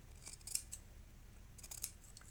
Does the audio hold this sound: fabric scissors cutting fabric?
yes